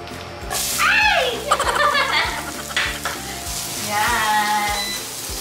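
Vegetables sizzle and fry in a hot pan for tofu sisig, with brisk stirring scrapes and a rhythmic background beat, while a voice speaks briefly over the cooking.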